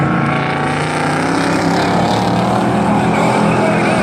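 Eight-cylinder race cars roaring around Valley Raceway during a heat race's closing laps, a loud, continuous engine drone with overlapping revs that swells slightly throughout.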